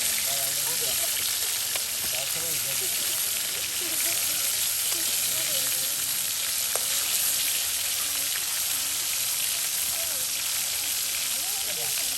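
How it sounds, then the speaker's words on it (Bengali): Rita fish pieces fry in oil with a dense, continuous sizzle and crackle heard close and steady throughout, with faint talk in the background. "একদম তেলের সাথে ভেজে নেওয়া হচ্ছে।"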